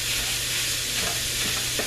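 Sausage sizzles steadily in a pan while a utensil scrapes and breaks it apart, close and continuous with faint clicks near the end and no speech.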